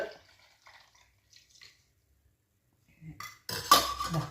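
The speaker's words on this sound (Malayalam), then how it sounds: "ചായയൊക്കെ ഒന്ന് അരിച്ച് എടുത്ത്" Tea is strained and poured into a cup: a few faint clinks of utensils and quiet drips, then a louder close stream of liquid splashing in near the end.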